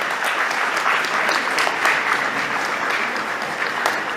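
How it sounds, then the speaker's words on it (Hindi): A crowd at an award ceremony honouring Sonu Nigam with the Shri Shankar Shambhu Memorial Award 2025 bursts into loud, dense, sustained applause, steady from start to finish with no talk over it. "जोरदार तालियों के बीच स्वागत करेंगे अजय जी का।"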